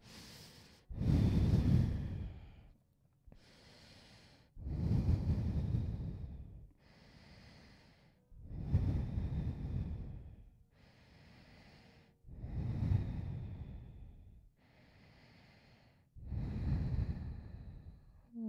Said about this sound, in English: Breathing in and out here.